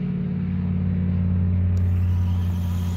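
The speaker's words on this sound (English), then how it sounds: "I want to see if I can do a drag race" Small 1/24 scale RC crawler trucks, including a Chevy-bodied one, whir in a drag race outdoors at dusk, a steady close motor drone with a low hum and a slight rise near the end.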